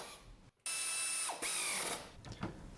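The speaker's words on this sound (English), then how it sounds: "we're going to go ahead and cinch them down with the air ratchet" Air ratchet cinching down the rear upper A-arm bolts on a C5 Corvette, heard as two loud, close, whirring bursts separated by a short gap, then a quieter tail of clicks and handling noise.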